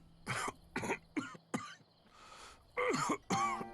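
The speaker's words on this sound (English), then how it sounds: "Who coughing?" A Genshin Impact character, in Baizhu's story quest, coughs in a series of short, close bursts: four quick coughs, a brief breathy pause, then two heavier ones.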